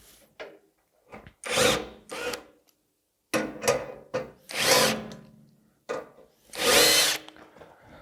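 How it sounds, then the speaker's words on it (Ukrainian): A cordless screwdriver unscrewing bolts while an electric starter is fitted, giving several short bursts of whirring motor with pauses between them, close and clear. "Відкручуємо 4 болти. Можна вручну, можна е, шуруповертом."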